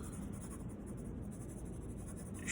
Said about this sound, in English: I'm going to use just the tip of this pencil, going horizontally first